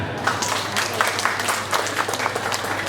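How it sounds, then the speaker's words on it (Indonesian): Steady applause from a crowd at a prize-giving ceremony for Indonesian Independence Day competitions, dense clapping filling the whole stretch at moderate volume with no talk over it. "Tepuk tangan."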